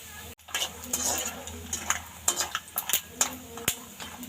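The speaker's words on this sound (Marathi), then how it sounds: "आता आपण यामध्ये शेंगदाणे फ्राय करून घेऊया" Peanuts frying in hot oil for a corn chivda, a steady close sizzle with scattered sharp clinks and scrapes of a spoon stirring against the pan.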